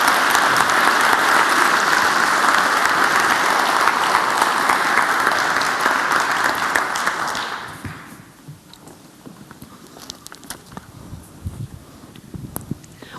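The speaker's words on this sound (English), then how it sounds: "A round of applause for Catarina" Audience applause after a keynote talk, a loud sustained clapping from a crowd lasting several seconds before fading to scattered claps and quiet room noise.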